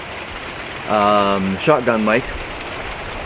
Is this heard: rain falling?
yes